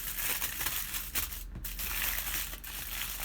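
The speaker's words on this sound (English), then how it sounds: "All these rustling tinfoil noises." Tinfoil gets folded back on itself at its edges, giving soft close crinkling and crumpling that rustles continuously at a low level.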